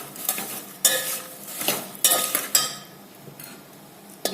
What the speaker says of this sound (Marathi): थोडंसं तेल गरम झालं की त्यात लाह्या टाकाव्या आणि परतून घ्याव्या.